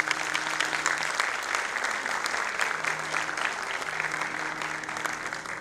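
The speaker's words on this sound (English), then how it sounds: "Let us give a big round of applause." Steady applause from an audience at an Indian classical vocal recital, dense and continuous clapping at moderate level throughout with no voices over it.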